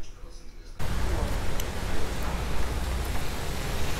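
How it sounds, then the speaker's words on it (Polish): Rain falling outdoors, starting abruptly after a quiet moment as a broad, steady hiss of downpour that stays dense and even to the end. "Idziemy, pada deszcz, tak więc nie jest zbytnio przyjemnie"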